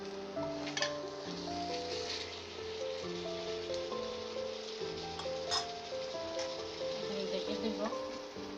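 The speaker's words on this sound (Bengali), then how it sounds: "সেজন্য আমি আগে আলুটাকে কষিয়ে নেব" Potatoes sautéing in a pan for an eggplant-and-potato curry with bele fish, giving a steady, close sizzle with faint stirring scrapes, under a background of tonal sound.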